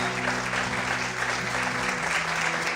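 Congregation applause at a church service, a dense, steady wash of many hands clapping, sustained and fairly loud throughout with a low sustained musical tone beneath.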